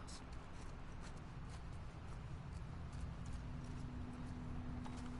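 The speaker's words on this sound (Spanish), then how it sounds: "¿Este es el caballo de Tommy?" Horse hooves clip-clop steadily through a video game, a continuous patter of footfalls over a busy game soundscape with a low steady hum.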